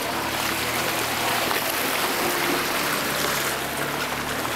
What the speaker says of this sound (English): The river flows on